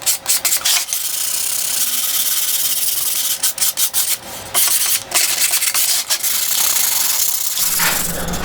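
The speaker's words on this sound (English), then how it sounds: "So I'm going to sand 180 by hand" Wooden picture frame sanded by hand with 180-grit sandpaper, a loud, steady rasping scrub with brief pauses and strokes, close up with no talk.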